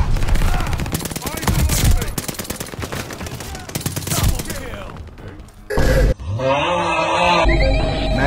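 MP40 submachine gun fire in Call of Duty, a World War II style multiplayer shooter: dense, rapid automatic bursts dominate the first half, then a pause before more gunfire and game effects return, with voice chat mixed in.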